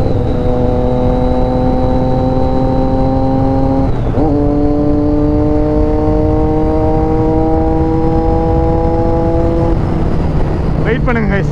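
A Triumph Daytona 675 motorcycle with a modified exhaust screams at full throttle in sixth gear, a loud, steady, high-pitched engine howl that holds its tone, dips briefly around a shift, then climbs again.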